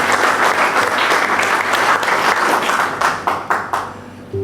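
Audience applause at Ganesh Rai's retirement valediction ceremony: a dense, steady crowd of hands clapping close by, thinning into a few scattered, separate claps as it dies away near the end.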